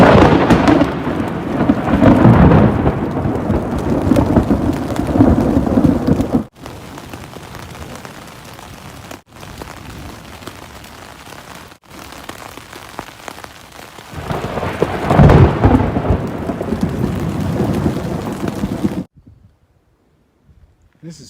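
Steady rain pours down during a hike on the Appalachian Trail, with thunder rumbling through the downpour; the rain fades to near silence in the final seconds.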